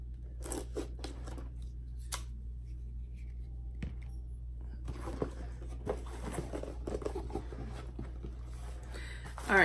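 Scissors or a blade slice open a monthly beauty subscription box, giving scattered close scratchy cuts and tearing crunches of cardboard over a steady low hum, with a faint voice briefly present.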